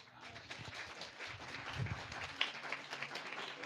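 Church congregation at a prophetic sermon clapping and cheering for Jesus, a faint, steady patter of many hands with scattered voices mixed in.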